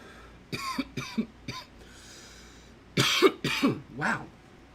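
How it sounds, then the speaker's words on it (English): A person coughs after vaping from an iKon vape pod, three short close coughs, a pause, then a harsher burst of three more with throat clearing. "Excuse me for the coughing."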